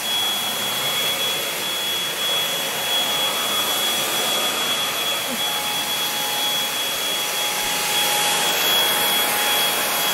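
MooSoo K17 cordless stick vacuum running steadily across a carpet, a continuous loud motor whine and airflow hiss with a fixed high tone, close and unbroken throughout.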